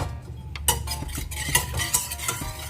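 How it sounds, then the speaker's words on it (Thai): Agar jelly for coconut milk and mango jelly is stirred in a pot over medium-low heat, with close, repeated scraping strokes and sharp clinks of a utensil against the pot in an uneven rhythm, and no one talking. "ซึ่งระหว่างนี้เราต้องทำการ กวนตลอดเวลานะคะ เพื่อไม่ให้ตัววุ้นตกตะกอน"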